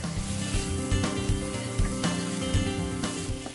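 Chicken frying in olive oil and butter sizzles steadily and loudly in a pan, with occasional stirring scrapes over the continuous crackle.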